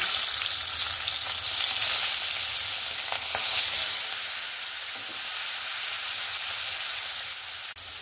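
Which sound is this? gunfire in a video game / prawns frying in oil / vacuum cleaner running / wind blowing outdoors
prawns frying in oil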